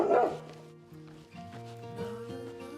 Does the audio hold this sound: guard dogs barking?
yes